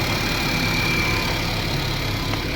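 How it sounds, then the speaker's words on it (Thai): A Mercedes-Benz GLA W156 with a red battery warning light and a radio that cuts out idles just after starting, a steady, close, even engine drone with no break and no voices. "เครื่องติดได้"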